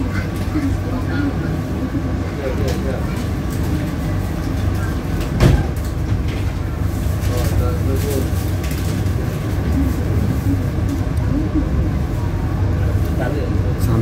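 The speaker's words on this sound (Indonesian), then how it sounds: "kereta api Matar Maja berangkat kembali dari stasiun Wulingi." Matarmaja passenger train pulling out of Wlingi station in Blitar Regency, a steady rumbling roll that holds throughout, with a voice talking over it.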